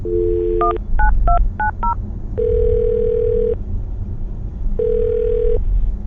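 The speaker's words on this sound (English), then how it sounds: "I'm gonna dial her phone number right now." A telephone number is dialed on a phone line: a quick run of separate touch-tone beeps, then two long steady tones with a pause between, loud and clear with no talking.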